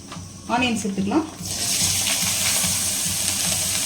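Chopped onions hit hot oil already spiced with star anise, cardamom and cloves, and a steady bright sizzle takes over after a short spoken phrase, holding loud and continuous.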